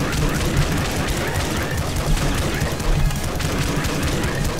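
Pistol fire in the Nuclear Throne video game: dense, continuous crackling bursts and booms from the game fill the mix at steady loudness, with someone talking over them.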